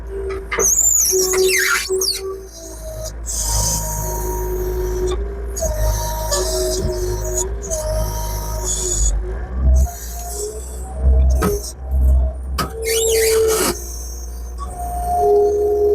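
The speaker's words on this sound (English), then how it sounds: "I can't even lift it with my skid loader." A skid loader drags a 12-foot oak log of about 7,000 lb across the ground. A steady, close engine drone runs throughout, with recurring high squeals and scraping bursts of grinding noise on top.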